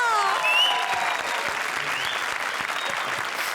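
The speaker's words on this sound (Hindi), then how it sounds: "जोरदार तालियां फॉर सुदेश एंड कृष्णा।" Studio audience applause for comedians Sudesh and Krishna on a Hindi comedy stage show, a dense, steady wash of clapping that stays loud throughout, with a few voices and whistle-like tones rising briefly over it near the start.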